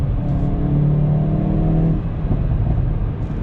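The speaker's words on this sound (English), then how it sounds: "And that exhaust is such a delight. It pops and burbles" A 2022 Hyundai Veloster N revs and hums loudly nearby, then drops off as the throttle lifts, with faint burbling and popping from the exhaust.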